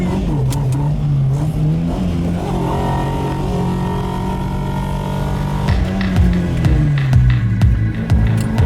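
An Alfa Romeo sliding around, its engine revving hard and loud throughout, with the pitch holding, dipping and then climbing again, and no speech over it.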